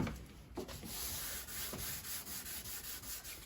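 Sandpaper of 500 grit rubs steadily over body filler on a Jeep Patriot being prepped for paint, a continuous close scratchy sanding with rhythmic back-and-forth strokes.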